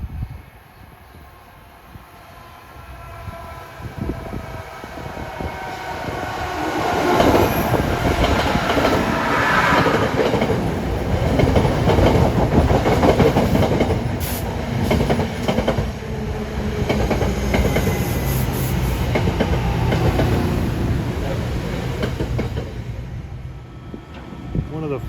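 A train, likely a 150 mph Acela Express, passes through Princeton Junction station, New Jersey, its rumble swelling into a loud, sustained rush of wheels and clatter that lasts over twenty seconds before easing slightly.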